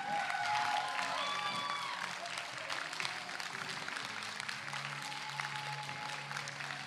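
Audience applause welcoming actresses Emilie de Ravin and Emma Caulfield onto a convention stage at the TGS Springbreak 2022 fan event, a steady wash of clapping and crowd noise lasting throughout, with faint tonal music underneath.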